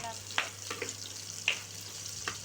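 Small red shallots sautéing in oil for a brinjal curry: a low, steady frying hiss broken by three or four light clicks of a spoon against the pan, quiet and close, with no voices.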